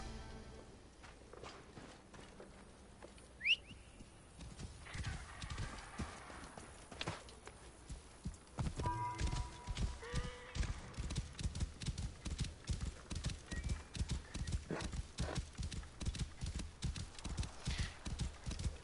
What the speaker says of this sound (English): I really like how fast the horse covers ground.